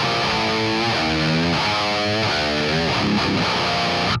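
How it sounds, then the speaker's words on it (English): Thick, high-gain seven-string electric guitar through a Kemper profile of a Peavey 6505 amp, riffing with crunchy distorted chords and palm-muted chugs, loud and continuous, cut off sharply at the end. "a Kemper profile, which is mimicking a PV6505 amplifier, and it sounds something like this."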